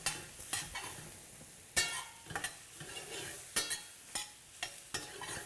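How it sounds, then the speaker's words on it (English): Onions sweating gently in a pan for risotto, heard as a quiet low sizzle under repeated sharp scrapes and taps of a spoon against the pan at an irregular pace, with no voices. "We're just looking to sweat those onions off."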